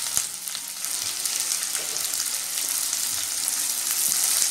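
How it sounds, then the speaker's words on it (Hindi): Onions and cashews frying in hot oil, a continuous, close, bright crackling sizzle with scattered pops and occasional stirring scrapes, no talk. "काजू हमें यहीं पे डाल देने हैं ताकि काजू भी इसमें अच्छे से फ्राई हो जाए"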